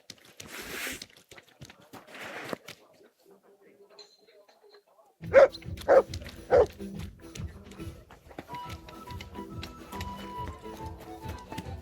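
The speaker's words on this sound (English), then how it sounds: "Good doggy. Good boy." A dog in Kingdom Come Deliverance II gives several sharp barks in a row, with soft whimpers and game ambience around them. A voice is heard faintly early on.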